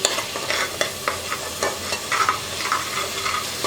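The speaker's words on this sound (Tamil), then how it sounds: "நல்லா ஒரு ரெண்டு நிமிஷத்துக்கு வதக்கிக்கலாம் நம்ம போட்டிருக்கிற பச்சை மிளகா புதினா இஞ்சி பூண்டு பேஸ்ட்டு" Green chili, mint and ginger garlic paste sauté in a pan for cauliflower biryani, a close sizzling hiss broken by repeated scraping stirs of a spoon against the pan at an uneven rhythm.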